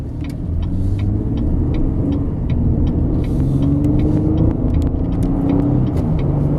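A 2017 Chevrolet Colorado LT pickup with a V6 engine and automatic transmission drives along, its engine humming in a steady, loud, close rumble under faint road noise, with no one speaking.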